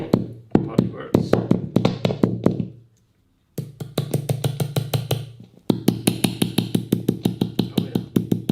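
Sharp knocks tapped on the pickups of a Sakai Teisco-style electric guitar plugged into an amplifier, rapid even bursts of loud amplified thumps in three runs with a short silent gap between them.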